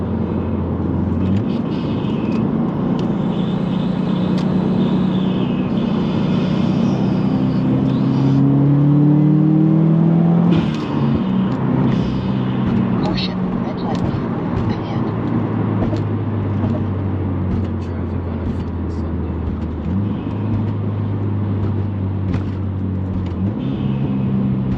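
Cabin sound of a 2018 Subaru WRX with a GrimmSpeed turbo inlet and Nameless Performance blow-off valve, the engine rising and falling through gears with turbo whoosh and continuous road roar, loud and close throughout.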